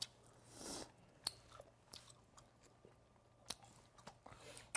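Crisp, brittle crunching as dried monkfish jerky is bitten and chewed bones and all, close and quiet, with a few sharp crackling bites spread over several seconds and no talk.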